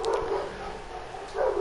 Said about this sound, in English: I apologize if you can hear dogs barking.